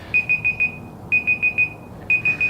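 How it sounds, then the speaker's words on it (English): A timer alarm goes off during tie-dye shirt making, sounding loud, close beeps in three bursts of four quick pips each, with brief pauses between bursts. "That's my timer."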